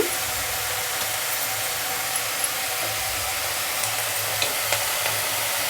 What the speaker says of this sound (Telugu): ఇప్పుడు మనం అందులోనే సన్నగా కట్ చేసి పెట్టుకున్నా టమాటా ముక్కలు ఒకసారి బాగా కలుపుకుందాము